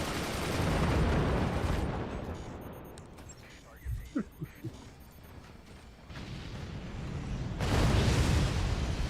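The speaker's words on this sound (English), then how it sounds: "A triple nuke, dude." A triple nuke detonates in the strategy game Forts, heavy booming blasts and rumbling impacts rising and fading over several seconds, with a voice talking over the action.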